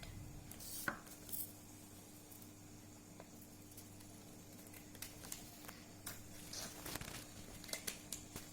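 Scissors cutting a 15 cm paper square, with faint, quiet snips and crisp paper rustles scattered irregularly over a soft background hum.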